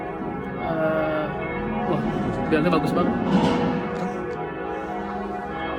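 Church bells ring in solidarity across Frankfurt in the evening, a sustained, fairly loud wash of overlapping tolling tones with a person talking over them.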